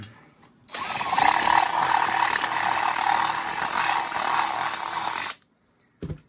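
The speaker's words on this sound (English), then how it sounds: "That is one dull drill bit for sure. Now I'm just going to try and ream on this" A power drill whirs steadily for several seconds, reaming a hole through metal with a dull bit on a vintage Honda CL350 motorcycle, with a constant high whine, then stops abruptly; a short knock follows.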